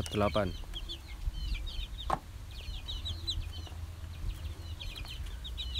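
KUB chickens cluck and squawk nearby while being weighed at six weeks old, with scattered bird calls and a low background hum, and a person talks over them.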